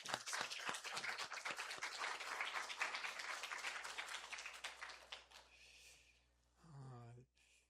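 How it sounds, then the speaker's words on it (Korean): A church congregation applauds during a Sunday worship service after a choir hymn, sustained dense clapping for about five seconds that fades away, followed by a brief spoken voice. "우리 부활하신 주님께 영광의 박수를 올려드리겠습니다."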